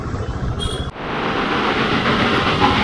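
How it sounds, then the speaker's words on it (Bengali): Rumbling toy train passing close by in the Darjeeling hills, a steady rolling clatter of wheels on track that swells and holds loud after a brief change. "এখন টয় ট্রেন যাচ্ছে, দেখতে পাচ্ছ আগে"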